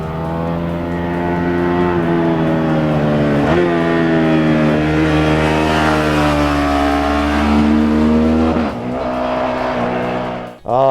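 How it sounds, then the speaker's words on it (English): A Suzuki SV650X with its 650cc V-twin engine revs hard, the pitch climbing and dropping through repeated throttle sweeps, loud and close, before cutting off sharply near the end. "It just loves to be revved and revved and revved and revved."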